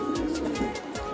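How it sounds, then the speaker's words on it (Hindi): Soft, low pigeon cooing repeats in a steady rhythm, close by, with a faint rustling background. "काफी तकड़े कबूतर आ"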